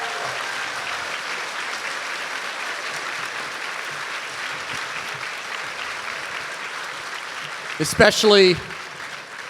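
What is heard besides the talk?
audience applause for participants and actors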